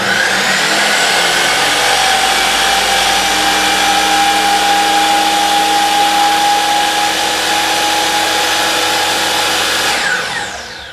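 A DeWalt DWS780 miter saw motor runs at full speed with no cut, a loud steady whine with a clear high tone held for about ten seconds, then spins down as power is released.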